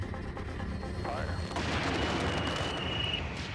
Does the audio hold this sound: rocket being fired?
yes